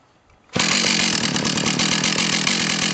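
A Strikemaster Mag 2000 gas ice auger engine starts abruptly and runs at high speed, a loud, buzzing two-stroke drone with a steady rapid pulse, close by and alone with no talking.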